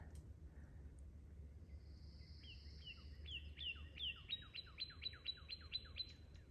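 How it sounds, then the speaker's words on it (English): Birds chirp in a wet forest along a hiking trail: a thin high whistle, then a rising series of quick repeated tweets, clear but moderately distant over a low rumble of ambient noise. "Can you hear the birds?"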